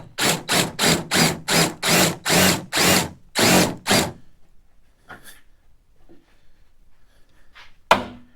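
An impact or power tool runs in about ten short rhythmic bursts as it drives a nut down on a Model A cowl, loud and close. After the bursts there are a few faint clanks and then one sharp knock.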